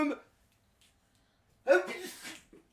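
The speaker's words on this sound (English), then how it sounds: "I'm going to sneeze now." A single loud, close sneeze bursts out after a short silence, preceded by a brief bit of speech.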